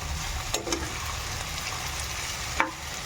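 Chicken pieces frying in a pan for chicken curry, a steady sizzle throughout with a few sharp scraping stirs of the spoon, close and alone.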